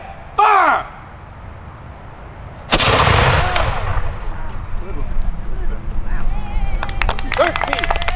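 A black-powder cannon booms loudly at an outdoor militia muster musket and cannon demonstration, one sharp blast followed by a long rumbling echo, with a shouted command and crowd voices heard around it.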